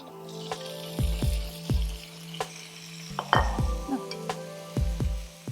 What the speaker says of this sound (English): Let's sear the pork belly until they are nice and crispy outer edges, but still juicy and soft inside.